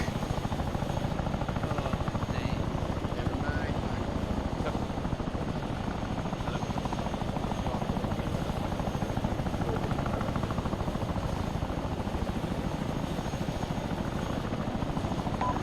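Heavy, steady rotor thump and engine roar of a Chinook helicopter in ARMA 3, loud and close, holding without a break for the whole stretch.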